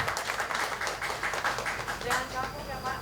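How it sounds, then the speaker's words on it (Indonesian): Audience applause at a talk show on the ornamental plant business, as certificates go to the speakers: a soft, even patter of clapping runs throughout while a voice carries on over it. "Tepuk tangannya mana tadi lovers?"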